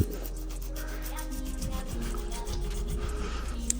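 A knife slices along a northern pike's fillet with soft rasping strokes, close and quiet, a few short scraping passes with no talk.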